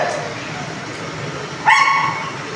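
A pitbull at an outdoor dog show gives a single sharp bark and whine near the end, rising above a steady murmur of crowd chatter and background noise.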